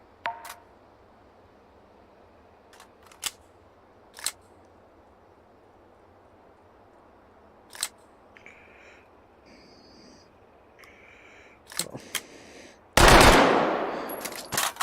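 In the H3VR virtual reality game, scattered clicks and handling noises of an MP40 submachine gun break a quiet room before a loud, close burst of automatic fire erupts near the end and rings out.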